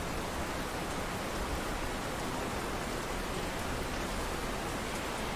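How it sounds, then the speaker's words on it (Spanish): Steady rainfall in the fishing game Russian Fishing 4, a continuous even hiss of drops that stays at one level throughout, with no talking. "Ahora tenemos la lluviecita."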